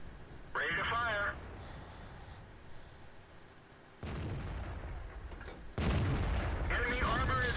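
Heavy booming shots from a tank destroyer's gun in World of Tanks sound three times, loud and spaced a few seconds apart, with game radio voices over them.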